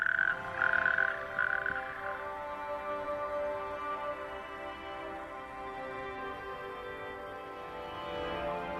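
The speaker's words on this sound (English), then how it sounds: "the distinctive call of the natterjack toads near the salt marsh" Natterjack toads calling by a salt marsh, a dense continuous churring chorus of many overlapping rasping trills, steady and fairly loud throughout with no voices.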